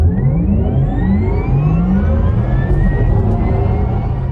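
A BMW iX1 electric car's synthesized drive sound, composed by Hans Zimmer, plays loud and steady: layered, rising electronic tones sweep upward over a deep humming rumble, like a spaceship accelerating.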